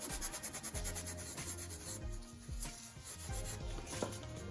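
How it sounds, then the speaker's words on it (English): A Scotch-Brite pad scuffs a shiny part of a Honda Prelude engine in short rhythmic rubbing strokes, a close, soft abrasive hiss with light knocks, and no talking. "I'm going to try to go at it with the Scotch-Brite to polish it up a bit."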